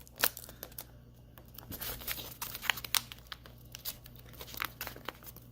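Paper being folded into an origami dragon, heard as soft close crinkles and crisp rustling snaps at an irregular pace, fairly quiet overall.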